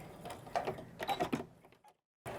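A sewing machine stitches and reinforces the seams of a zip pouch in short, uneven bursts up close, then falls silent before starting up again.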